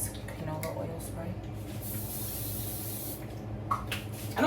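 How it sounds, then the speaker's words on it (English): Canola oil cooking spray hisses from a can in a steady close burst lasting a couple of seconds, with faint background hum and small clicks around it. "I'm going to spray them with this canola oil spray"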